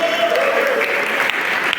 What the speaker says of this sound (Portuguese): Louva Jesus com as palmas.